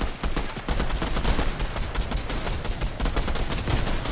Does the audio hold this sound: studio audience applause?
no